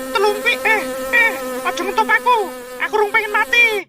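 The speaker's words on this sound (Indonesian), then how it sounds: "Dintup tawon ora mati, Tel." A bee or wasp buzzes close and loud, in short wavering bursts that rise and fall in pitch.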